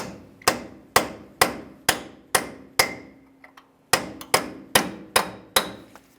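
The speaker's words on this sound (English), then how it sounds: "We'll continue on with a hammer and punch directly in the center of the axle." Sharp metallic hammer blows on a punch against a 2015-2020 Ford F-150 front CV axle strike at a steady pace, about a dozen in all, with a brief pause and a couple of lighter taps midway.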